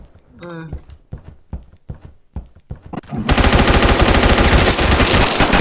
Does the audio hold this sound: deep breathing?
no